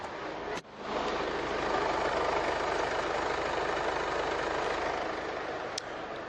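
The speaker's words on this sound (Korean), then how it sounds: "디젤 엔진치고 굉장히 정숙한 엔진 소음을 기대하실 수가 있는 차량입니다" A Mercedes-Benz GLA diesel engine idles in a steady, close, even clatter-hum after a short knock at the start, with a small click near the end and no voices.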